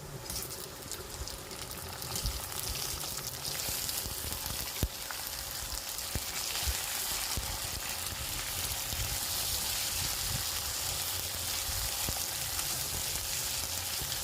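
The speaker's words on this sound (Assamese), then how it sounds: "এতিয়া দি দিলোঁ মই তাতে লোকেল চিকেনখিনি।" Local chicken pieces fry in a pan over well-browned onions, giving a continuous close sizzle with faint stirring clicks and no talking.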